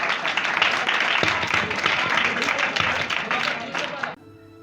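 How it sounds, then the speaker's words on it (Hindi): Audience applause fills a church Christmas program, with dense steady clapping that runs for about four seconds and then stops abruptly. "आपकी भरपूर तालियों में।"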